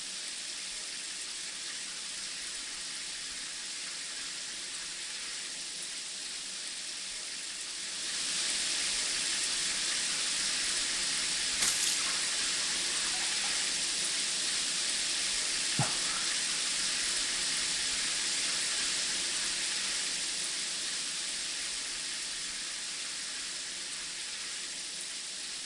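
Steady broadband hiss of shower water running in a cramped bathroom while hair is washed, faint at first and then swelling louder and holding as a continuous rush, with no talking.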